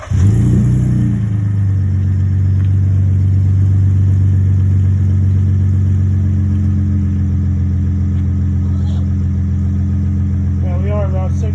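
A 2018 Ford F-150 with the 3.3L non-turbo engine and MagnaFlow 12589 exhaust cranks and fires up, then settles into a steady, loud, deep idle drone heard from close by, with brief voices near the end.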